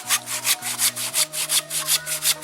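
A hand saw cuts through wood high up while trimming a tall rafter, in a steady back-and-forth rhythm of about ten close, loud strokes, with a low hum underneath.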